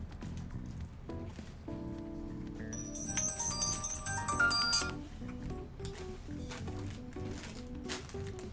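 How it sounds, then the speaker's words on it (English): A phone ringtone from a scam call plays as a melodic tone pattern, rising into a brighter, louder burst midway before settling back, with game sounds or murmuring underneath. "Just a new scam phone call."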